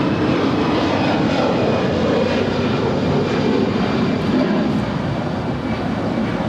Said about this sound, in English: This is Alaska Airlines Flight 881, departing to Seattle, Tacoma. It's an A320.